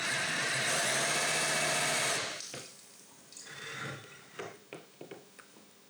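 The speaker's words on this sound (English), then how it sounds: "but for now I'm going to use my power drill" A power drill drives a flexible impeller water pump, first as a steady loud whir, then as the drill stops, with scattered soft clicks and splashy handling noises.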